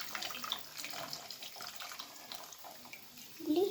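Faint tap water running in a kitchen sink while soaking tamarind, a soft steady gush with small splashes, quiet and close, ending with a brief louder clatter.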